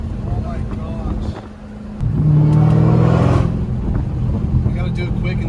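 A Dodge Hellcat Redeye fitted with a 3-inch catback exhaust drives past, its deep, loud engine rumble swelling as it nears and fading again, with wind noise and voices talking.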